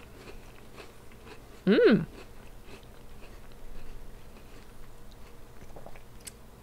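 A cotton candy flavored cookie is bitten and chewed in one short crunchy burst near the mic, followed by a hummed murmur of approval against a quiet room background.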